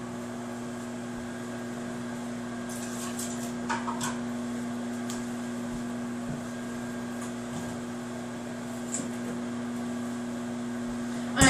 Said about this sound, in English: you're gonna hear pop, snapple, crack from your microwave, that is just your stuff cooking